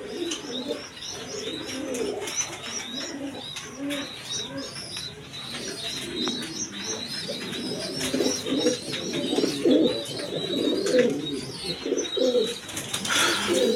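A crowd of pigeons of various breeds, kept for sale, coos in a steady throaty chorus, overlaid with higher chirps from other birds, growing slightly louder toward the end.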